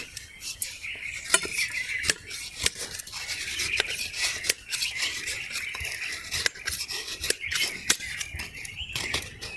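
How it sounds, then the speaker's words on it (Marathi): A knife cuts a block of jaggery finely on a plate: quick, irregular scraping and chopping strokes, close and crisp, with clicks against the plate. "हा गुळ आता आपण कापून घेऊ एका प्लेटमध्ये तर आपल्याला हा गोळ मित्रांनो एकदम बारीक कापून घ्यायचा"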